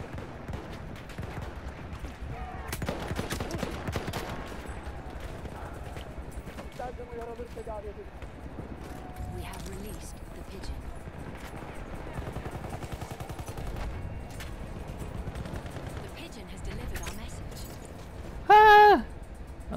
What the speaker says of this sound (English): He's using a shotgun, actually.